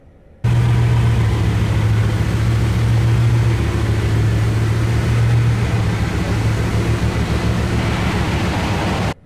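A broken Bugatti Veyron cruising slowly, its engine a steady, loud, low hum with broad road and mechanical noise that holds unbroken for about nine seconds, with no talking.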